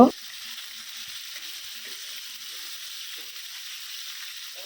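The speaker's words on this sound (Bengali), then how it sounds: "এখন আমি 5-6 মিনিট আলুগুলো ভেজে নিব" Potatoes frying in hot oil in a pan for a beef curry, making a steady, soft hiss that runs evenly throughout after a short clank at the very start, with no talking.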